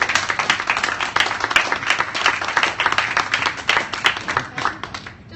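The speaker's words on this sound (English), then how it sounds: "give yourselves a round of applause" An NHS gathering applauds itself at a closing event, brisk, uneven clapping from a modest crowd with individual sharp claps standing out, swelling and dipping over several seconds before tapering off.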